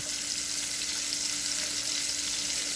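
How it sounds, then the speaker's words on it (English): Onions fry in a pan with a steady, close, continuous sizzle, with no voices over it. "So I'm going to cook these onions about a minute"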